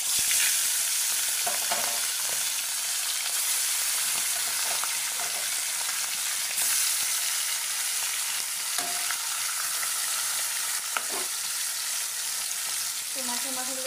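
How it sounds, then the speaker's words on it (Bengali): Fish heads frying in hot oil in a wok for a Bengali muri ghonto, producing a loud, steady, close sizzle throughout, with occasional spatters and light clatters. "তো মাছের মাথাগুলো ভাজা হতে থাক।"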